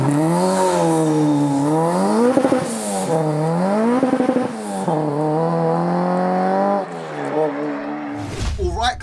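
Supercharged Honda K20 engine in a K-swapped time attack Civic coupe revs hard, loud and close, pitch sweeping up and down through several repeated pulls before cutting off abruptly near the end.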